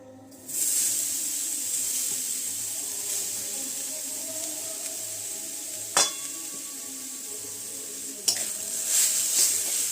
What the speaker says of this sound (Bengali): নারকেলের পুরোটাকে একটু নাড়াচাড়া করে নেব।